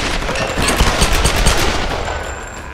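Rapid automatic gunfire from the Tomb Raider video game, loud and close, a continuous rattle of shots that lasts the whole stretch and fades slightly at the end, with no speech.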